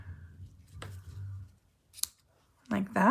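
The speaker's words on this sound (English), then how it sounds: "Then take your scissors and just cut at an angle here" Scissors snip once through ribbon at an angle while tying a label, a single crisp close cut, with a voice speaking just afterward.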